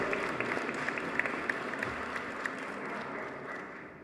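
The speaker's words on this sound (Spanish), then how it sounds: "Gracias a cada uno de ustedes por el aplauso" Audience applause at a book presentation for Antonio Velasco Piña's Ángeles Guerreros at the FIL Minería 2016 book fair, a steady, moderately quiet wash of clapping from a seated crowd, thinning slightly toward the end.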